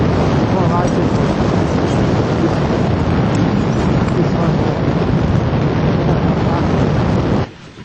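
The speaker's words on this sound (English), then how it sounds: "Wind blows so hard." Strong wind roars against the microphone high on Mount Rainier's icy slopes, a loud, steady buffeting rush that fills the whole stretch before dropping off abruptly near the end.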